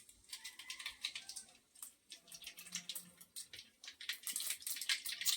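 Mustard seeds spluttering and popping in hot oil while tempering for a home-cooked dish, a dense run of sharp crackles and tiny bursts, close and moderately loud, with no talking.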